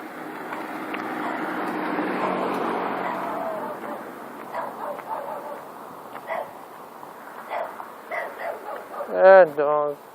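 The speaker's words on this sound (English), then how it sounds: "Ah, dog." A dog barks and yips several times outdoors, scattered sharp calls rising toward a louder cluster near the end, with a passing car's whoosh in the first seconds and a voice speaking.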